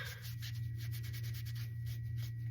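Antique Waverly wax is rubbed by hand onto a primitive wooden star, giving a quiet, continuous brushing friction with steady back-and-forth strokes and no talking.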